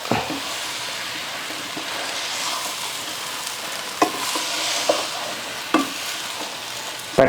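Gooseberry pickle mixture heats and sizzles in a pan as it is stirred, giving a steady frying hiss broken by a few louder scrapes and clanks from the spoon.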